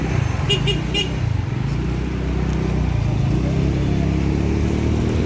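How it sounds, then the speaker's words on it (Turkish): Dense road traffic with motorcycles rumbling close by in Erenler, Sakarya, Turkey, engines droning steadily and brief high tones near the start, under a constant low roar. "Trafiğin yoğunluğuna bakıyorsunuz."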